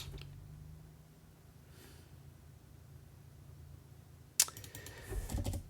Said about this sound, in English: if I type some gibberish here